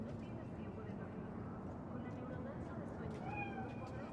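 A cat meows a few times in the Cyberpunk 2077 video game, faint cries over a steady low ambient hum, with no talking.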